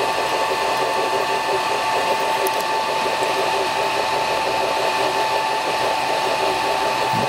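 Mr Carve M1 Pro rotary roller attachment turning on a laser engraver, a loud continuous motor whine with a steady tone and faint rhythmic pulsing, running unchanged throughout.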